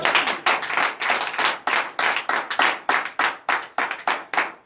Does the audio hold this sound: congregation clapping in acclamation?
yes